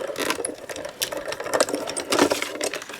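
A manual die-cutting machine is cranked by hand through several turns, giving irregular mechanical clicks and grinding rolls close by, with no talking.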